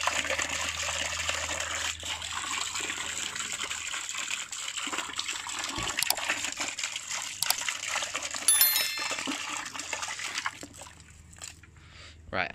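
3D-printed 12 V centrifugal water pump ticking over at low speed, a continuous broadband rush and splash of moving water with a steady motor hum underneath, loud and close throughout.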